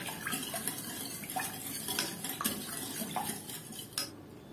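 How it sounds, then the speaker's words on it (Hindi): A spoon stirs sugar and pineapple jam together in a bowl, giving a faint, close run of light clinks and scrapes against the bowl. "अब सभी को अच्छी तरह से हम मिक्स कर देंगे।"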